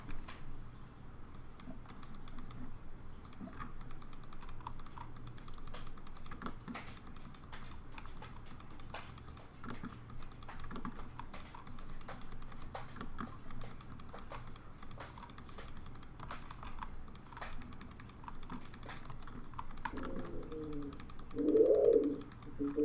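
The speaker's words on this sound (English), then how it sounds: "Me frantically clicking because I was smoothing it out." Busy computer keyboard typing and mouse clicking continue steadily for over twenty seconds, a dense run of quick light taps at moderate level, with a brief louder sound near the end.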